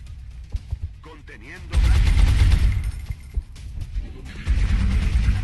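Suppressive gunfire in XCOM Long War, a sustained loud burst of automatic fire lasting a few seconds, with sharp scattered shots before it and a second burst near the end.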